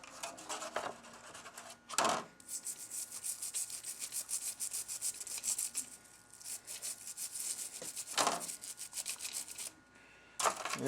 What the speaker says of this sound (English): Really get in there and scrub her good.